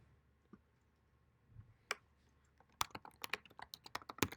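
Code typed on a computer keyboard during a programming class, starting with a few scattered taps and building into a quick burst of crisp, close key clicks near the end. Faint room quiet in between and no talking.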